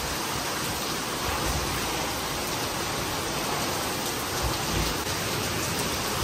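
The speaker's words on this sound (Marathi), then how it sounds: "आमच्या इथे तर खूप मस्त पाऊस आहे" Heavy monsoon rain pours steadily and close, a continuous dense hiss with no pauses, alone and with no voices.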